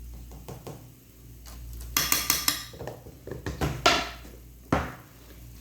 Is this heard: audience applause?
no